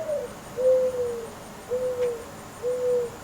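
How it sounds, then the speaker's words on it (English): An owl hooting close by at night, four even, soft low hoots spaced about a second apart against a quiet background, with no voices. "Did you hear that owl?"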